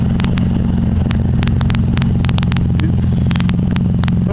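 A 1991 Ford Ranger engine with no muffler idles loud and close, with a rough, continuous low rumble and sharp ticking clatter bursts breaking through at irregular moments.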